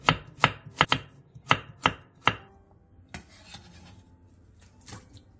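A knife slices burdock root diagonally into thin pieces on a cutting board, with a quick run of sharp, close chops followed by softer, scattered cuts and scraping, and no talking.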